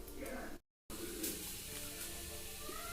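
Chana dal sizzles steadily in hot oil, a continuous close frying hiss with a brief dropout partway through.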